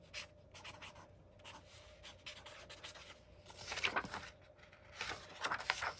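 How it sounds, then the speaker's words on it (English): A Tombow Twin Tone brush marker moves across planner paper in short, soft scratchy strokes, quiet and close, with brief pauses between bursts of writing. "This is a Tombow Twin Tone. Let me use the brush here,"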